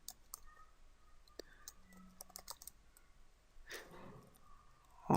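Keys clack on a computer keyboard in a short, irregular typing burst, quiet and close, with a louder rustle near the end and no talking.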